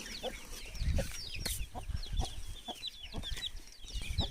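A hen with her chicks clucks in short, repeated calls while high, thin peeping runs throughout, all fairly faint and close with light rustling between calls.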